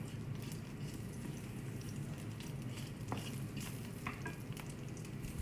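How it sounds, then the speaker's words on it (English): Green Anaheim chilies, seeds removed, sputter and sizzle as they are stir fried in a pan: a steady, dense crackle with scattered sharper pops throughout, close and loud, with no voices. "Green chilies are sputtering"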